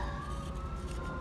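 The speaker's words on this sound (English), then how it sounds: "Sorry for the sirens in the background." A police siren wails faintly in the distance, a thin steady tone hanging over low background rumble.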